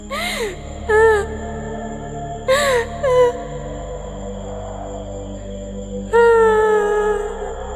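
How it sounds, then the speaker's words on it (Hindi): Soft wailing cries come in several short, wavering bursts, with pauses between them, over a low steady drone. "अचानक किसी के रोने की धीमी सी आवाज सुनाई देती है।"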